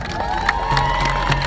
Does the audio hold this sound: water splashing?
no